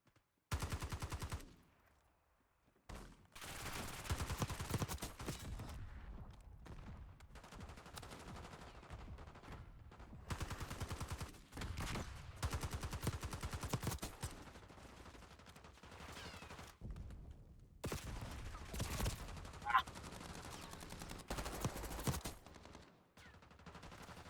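Rapid bursts of Model L submachine gun fire in a first-person shooter video game, repeated volleys separated by short pauses, fairly loud and close with no talking.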